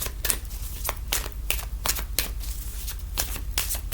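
Tarot cards shuffled by hand, a rapid run of crisp riffling snaps and soft slides repeating in quick bursts, close and even, with no voice.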